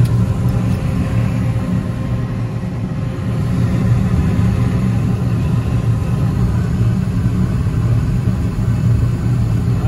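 A gas unit heater burner lights and runs with a steady, loud low roar and rumble, continuous and unbroken throughout with no voices.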